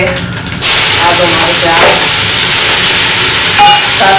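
Mustard seeds and cumin sizzle loudly in hot oil for an Indian home-cooked meal, a steady broadband frying hiss that jumps up after a brief quieter start and runs on with faint crackles.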